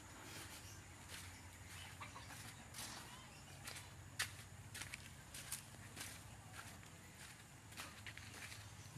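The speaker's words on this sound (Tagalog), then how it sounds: "may manok si Logan" Faint, intermittent chicken clucking from a distance, mixed with scattered footsteps and light clicks over steady low background noise.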